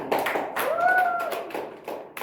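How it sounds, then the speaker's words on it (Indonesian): A classroom of students gives brief, scattered claps, faint and somewhat distant, with a few separate hand strikes and a soft tonal sound in the middle. "Beri tepuk tangan."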